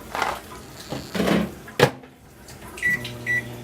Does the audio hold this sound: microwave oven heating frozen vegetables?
yes